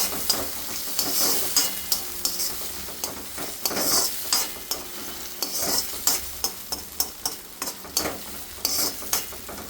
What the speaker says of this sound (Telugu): ఇలా టమాటాలు వేసేసుకొని దీన్ని ఒక మిక్స్ ఒకసారి ఇలా కలిపేసుకొని